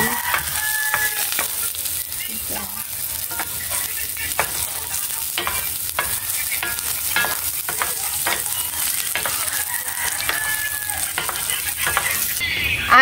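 Onions frying in a pan while being stirred, a continuous bright sizzle with repeated scraping stir strokes, close and steady throughout.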